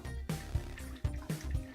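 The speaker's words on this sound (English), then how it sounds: "empty out the coconut water into the blender" Coconut water drips and glugs in quick irregular bursts, splashing faintly into a blender nearby.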